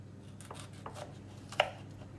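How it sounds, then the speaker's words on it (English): A sharp kitchen knife slicing through a tomato on a board to cut it into quarters, a few soft, quiet cuts with one crisper tap near the end. "I'm using the knife to cut through the tomato"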